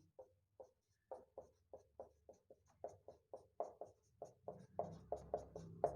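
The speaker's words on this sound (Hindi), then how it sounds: "सबसे पहले परिभाषा लिखते हैं" Pen or chalk writing out a definition during a lecture, a series of short scratchy strokes in an irregular rhythm, close but quiet, growing busier toward the end.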